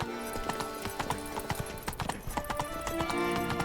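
Roach, Geralt's horse in The Witcher 3, gallops with rapid, steady hoofbeats close by, a brief whinny rising near the end.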